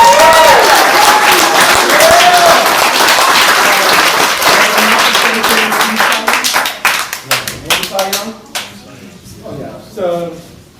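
Children clap and cheer for Hall of Fame pitcher John Smoltz at a batting cage, a loud close round of applause that swells, then thins into scattered claps as voices start talking.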